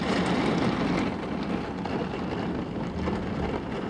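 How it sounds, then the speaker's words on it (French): Thunder rolling through a moderate to strong thunderstorm with an arcus cloud near Amboise, a dense low rumble that stays loud and steady with rain noise mixed in. "Tonnerre."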